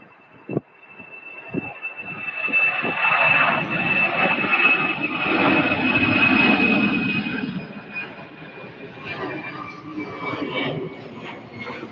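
A UPS cargo jet departs Louisville airport, its engines building from a thin whine into a loud, broad roar that lingers and slowly fades, with a high turbine tone held throughout and a faint voice now and then.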